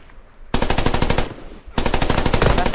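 AK-308 rifle fired in the Roblox game Deadline, two loud close bursts of rapid automatic fire separated by a brief pause, after a quiet start.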